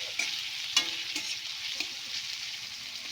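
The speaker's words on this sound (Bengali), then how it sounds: "মশলাটা একটু কষিয়ে নেব" Spice paste with three pieces of tomato frying in a pan over raised gas heat, a steady close sizzle with a few sharp scrapes of stirring, no talking, for a Bengali ilish fish curry with taro.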